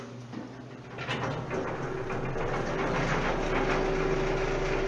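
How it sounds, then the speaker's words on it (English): Jaw crusher conveyor and hopper vibrating motor on a modular crushing plant start up together, building from a low mechanical hum into a steady, loud industrial drone with a sustained tonal whine and rattling vibration. "So you turn the conveyor on first, and then the vibrating motor."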